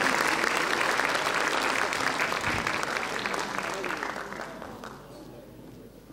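At a children's reading award ceremony, the crowd gives a pupil coming onto the stage a loud round of dense applause that fades gradually over the last seconds, with some talk mixed in.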